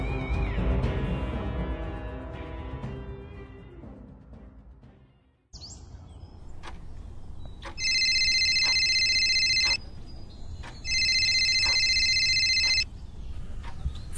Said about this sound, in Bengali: ফোনটা রিং হতেই শ্রী ফোনটা তুলে দেখে তোজো ফোন করেছে।